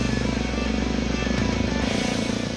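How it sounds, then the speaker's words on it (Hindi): Motorcycles on an army bike rally from Udhampur to Drass over rough mountain roads, a continuous loud engine drone from close by, steady throughout with no talk. "सेना ने उधमपुर से द्रास तक दुर्गम रास्तों से गुजरने वाली ये बाइक रैली निकाली।"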